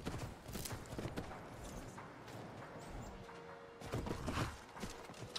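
Horse hooves clip-clop at a walking pace in Skyrim, a light, irregular patter of steps heard fairly quietly beneath game ambience, with no talking.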